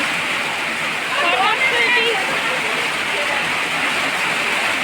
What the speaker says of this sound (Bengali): হঠাৎ করে বৃষ্টি এসে একবার মানুষের সব কিছু ভিজাই বুঝাই দিল